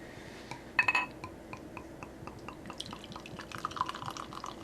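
La Fin Du Monde beer poured into a glass: a faint clink of glass at the start, then soft trickling and dripping liquid with small fizzy crackles, quiet and close.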